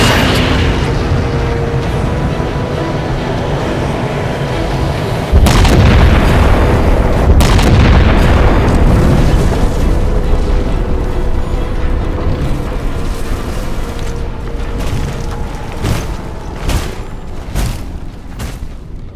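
Ship weapon firing in Halo 4, a loud sustained boom and rumbling blast with further heavy impacts and crackling bursts following, dense and continuous throughout.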